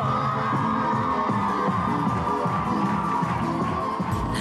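Studio audience at a Telefe television show cheering and whooping as a performer takes the stage, a dense roar of crowd noise with shouts and yells, loud and continuous throughout.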